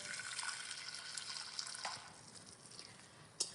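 Tap water runs steadily into a pan for boiling broccoli, a continuous close hiss and gush of filling liquid with a small clink near the end.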